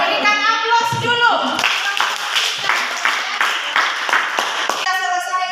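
A school class applauding after a group discussion on cell division: a run of close, rhythmic handclaps from several children, with voices talking at the start and end.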